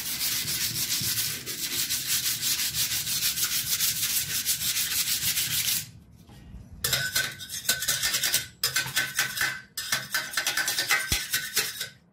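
Steady abrasive rubbing of sandpaper on a homemade metal welding stand frame, continuous at first, then broken into short bursts with brief pauses between strokes.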